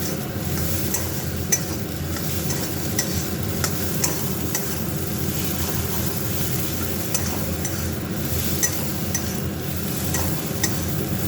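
Taro greens being stirred in a pan until they clump and dry out, giving a steady close sizzle of frying with continuous scraping and stirring throughout.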